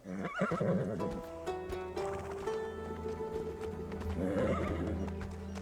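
A horse neighs loudly and close by, a long whinny over hoof clip-clops, set in a Bollywood film scene with music underneath.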